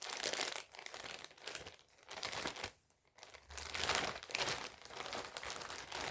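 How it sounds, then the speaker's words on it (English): A plastic Ziploc bag holding clothing is pulled open up close, giving continuous crinkling bursts with one short pause midway and no talking. "if I can open the bag"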